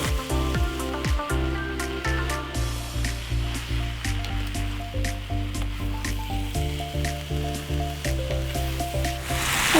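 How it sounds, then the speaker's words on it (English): Shanghai noodles in sauce sizzle steadily as they are tossed in a stir-fry pan, a continuous close hiss running beneath a prominent bed of tonal background music for the whole stretch. "you just want to keep tossing these noodles until we get a beautiful even color and that sauce thickens up a little"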